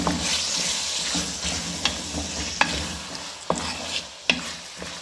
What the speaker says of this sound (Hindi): और अब हम इसके अंदर मटर भी साथ ऐड कर देंगे। तो साफ करना चाहते हैं, इसको भून लेंगे अच्छी तरह।